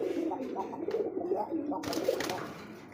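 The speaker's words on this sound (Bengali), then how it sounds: "অবশ্যই কবুতর কিন্তু কম বেশি সবাই ডাকছে ভিডিওতে" Pairs of pigeons of a prized fancy breed, male and female, coo steadily in soft, low, rolling calls close by, with a few sharper bird notes near the end and no talk.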